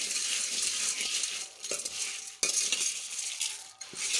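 Dry bhel ingredients with peanuts and a pinch of salt are tossed and mixed in a large pot, making a continuous rustling, crunchy hiss with a few sharp clinks of the spoon against the pot, close up and steady.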